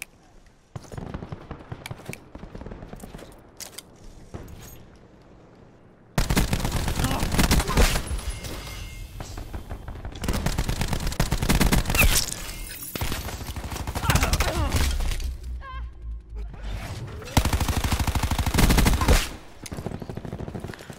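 Gunfire in Call of Duty: Black Ops 4 comes in loud bursts of rapid automatic shots, with several long volleys broken by short quieter gaps.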